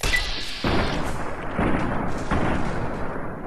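Video game gunfire rings out as three heavy, booming shots spaced about a second apart, each with a long rumbling tail, loud and close.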